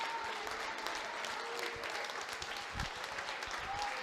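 A church congregation applauds during a celebration service, a steady, distant-sounding patter of many hands clapping with faint crowd murmur beneath.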